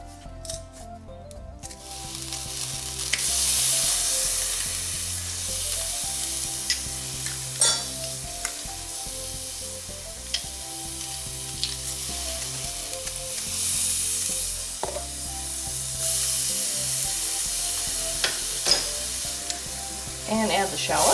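Garlic sizzles steadily in hot oil for braised cod, a loud continuous frying hiss with occasional stirring clinks and scrapes, no talking.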